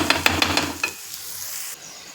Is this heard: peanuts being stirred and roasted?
yes